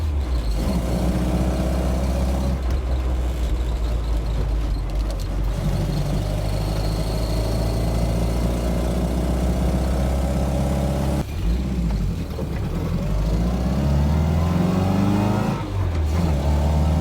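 The engine of a Super 998 car runs steadily while driving, a loud continuous low drone with slight shifts in pitch throughout and no talking.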